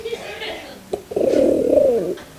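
A human voice imitates the coo of a rock dove, a short opening note, a brief pause, then a longer warbling throaty coo, close and loud.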